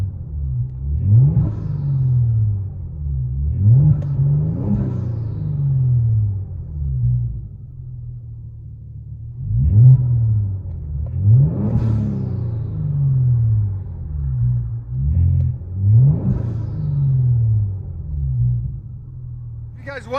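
Heard from inside the cabin, a 2018 Kia Stinger GT's 3.3L twin-turbo V6 with dual exhaust and resonators rumbles deeply, swelling in repeated rev pulses every few seconds over a low, steady drone.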